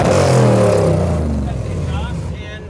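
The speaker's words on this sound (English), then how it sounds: "Absolutely, this is a bone stock engine" A bone stock engine in an off-road race truck revs loudly up close, a rising then settling growl, with someone talking over it.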